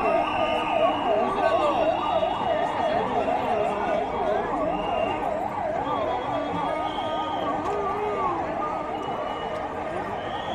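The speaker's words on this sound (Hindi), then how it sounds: "इस बीच में एम्बुलेंस को जगह देते हुए" Wailing ambulance siren sweeping up and down continuously, loud and fairly close, over traffic rumble and some background voices, at the Rath Yatra festival in Puri, Odisha.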